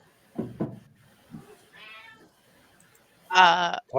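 A cat named Charlie meows twice, a short call followed by a louder, drawn-out meow near the end, between soft murmured speech from people nearby in a quiet room.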